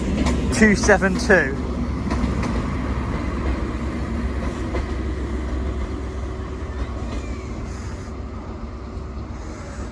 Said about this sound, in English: The test train. And then the rear one is the Colossus Rail